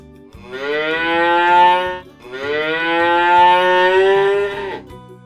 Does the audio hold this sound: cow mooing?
yes